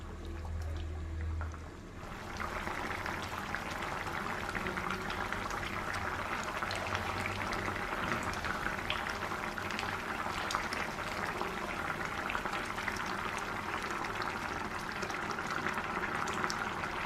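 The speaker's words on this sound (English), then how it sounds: "Now we'll cook it till the water dries up." Water bubbles and seethes steadily in a cooking pot of smoked pork chutney, a continuous close hissing simmer that carries on without pause and with no talking.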